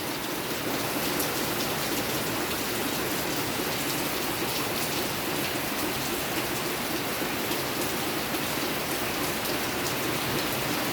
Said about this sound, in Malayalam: മഴ പിന്നെ ഏറിക്കൊണ്ട് വരും കേട്ടോ